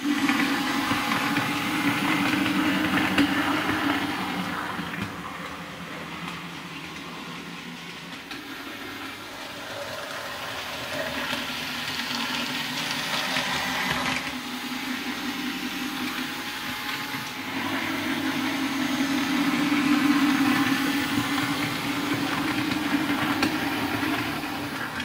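A British model railway locomotive runs in on a layout, a steady mechanical hum and whirr with rising and falling swells as it circles the track, close and continuous with no talk.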